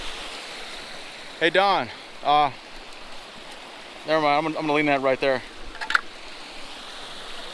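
Fast-flowing stream current rushes steadily as a broad, constant wash of water noise, with a voice speaking briefly over it in two short bursts.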